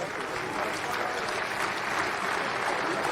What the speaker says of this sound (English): a big round of applause for all who played so well in this year's World Cup